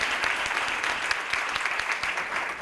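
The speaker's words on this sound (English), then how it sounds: "Let's clap it up right now" An audience at a school district graduates award ceremony claps continuously, a dense even patter of many hands with a few sharper individual claps standing out near the front.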